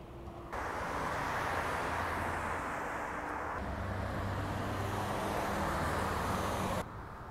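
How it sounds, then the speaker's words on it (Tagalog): Street traffic at a bus stop in Croatia forms a steady, loud roar of passing vehicles that starts abruptly and holds constant before cutting off near the end, with no voices. "Ito na yung bus stop."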